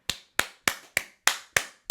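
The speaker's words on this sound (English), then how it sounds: "That is worth giving some round of applause for" Seven crisp, evenly spaced hand claps from a single person, close and distinct with clean silence between each, like a slow deliberate round of applause.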